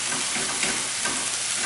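A frittata sizzles and fries steadily in a hot pan while it is stirred, giving a close, even crackle with no talking.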